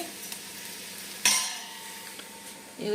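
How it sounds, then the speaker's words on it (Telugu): Millets roasting in a pan over a low flame, a faint steady sizzle with soft scraping and stirring and one sharper clink of utensil against the pan. "ఫస్ట్ వేయించుకోవాలన్నమాట చిరుధాన్యాలతో ఒక్కొక్కటి ఒక్కొక్కటి చిన్నగా ఇట్లాగా సిమ్లో పెట్టుకొని వేయించుకుంటూ చేసుకోవాలి"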